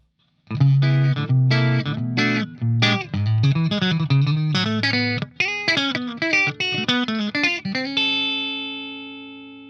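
A clean electric guitar through a SonicTone Delta Deluxe 20W tube amp's clean channel plays a rhythmic run of chords and single notes, bright and close, ending on a long ringing chord that fades out.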